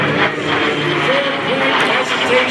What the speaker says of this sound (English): 4-point hesitation roll there, courtesy of Jerry Conley and the DeHavilland Vampire